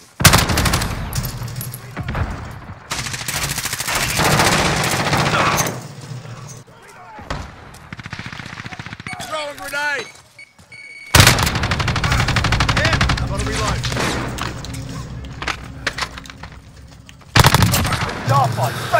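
Rapid gunfire from Call of Duty: Modern Warfare (2019), loud bursts of automatic weapons with sharp shots, brief lulls and a few clipped electronic in-game cues, while a player's voice talks over the action at times.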